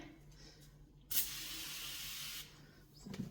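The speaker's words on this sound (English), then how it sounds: "I gotta give it a good spray" A spray bottle of cleaner squirted once during house cleaning, a single long hissing burst lasting over a second, close and fairly quiet, with no voices.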